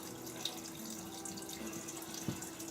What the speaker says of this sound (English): Just draining the mash tun now into my kettle.